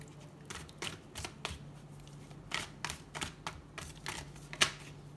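Tarot cards handled and drawn from a deck, a series of crisp flicks, snaps and shuffling clicks in an irregular rhythm, close and moderately quiet.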